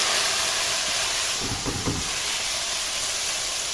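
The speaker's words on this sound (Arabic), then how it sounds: "بس كده انزل بالرز. طبعا رز مصري غسلاه" Washed Egyptian rice goes into a hot pan with vermicelli and gives a loud, even sizzling hiss. The hiss holds steady and close for the whole few seconds, with a slight swell near the middle.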